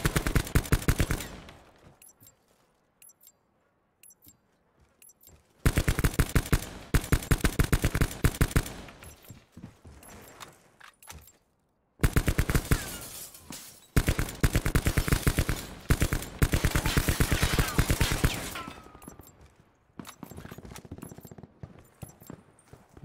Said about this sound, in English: Just shooting at random things.